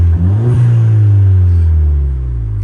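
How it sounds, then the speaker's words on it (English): A remapped 2016 Ford Fiesta ST-2 Stage 2 revs once with its exhaust audible, a loud close-up engine rumble that swells briefly and then settles back into a steady idle drone. "I'll just give it a quick rev actually before I get out."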